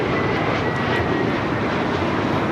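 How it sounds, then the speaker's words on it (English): A JetBlue Airbus A321 jet takes off, bound for JFK, with a loud, steady broadband engine roar that holds evenly throughout without any voices. "This is JetBlue Flight 424 taking off to JFK on the A321"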